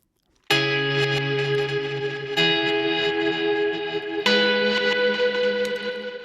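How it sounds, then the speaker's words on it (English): A track processed through a Sound Toys Crystallizer echo effect, with the wet echo louder than the dry signal: a dense, sustained tonal wash that starts abruptly and shifts to new chords twice, thick with shimmering repeats and reverb. "the echo is louder than the actual dry signal itself"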